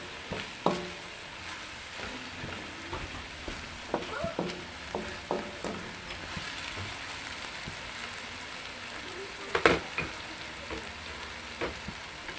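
Chicken frying in a pan for Sprite adobo, a continuous crackling sizzle with a run of spoon scrapes and clinks at a steady pace, plus one louder clatter near the end.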